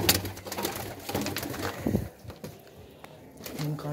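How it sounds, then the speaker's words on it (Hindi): Pigeons coo in low, throaty bursts close by, mixed with rustling and a faint voice or two in the background. "कबूतर खोलिए बाहर उत्ते बिठाइए"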